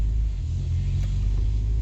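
Low, steady exhaust drone of a Saab 9-2X heard from the cabin with the windows rolled up, a muffled rumble cruising along without much change.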